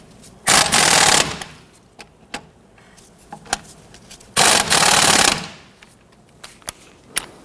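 Strut bolts being tightened on a 1992–1996 Toyota Camry: two loud, rapid rattling bursts from a power tool, each about a second long, separated by quieter clinks and taps of tools and metal.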